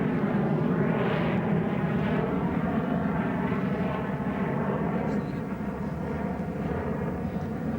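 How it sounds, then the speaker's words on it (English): A fixed-wing airplane takes off near a golf course during the final round of a 1999 golf tournament, heard as a broad, sustained jet roar at moderate distance that stays steady throughout. "for every time we cross you, a plane takes off."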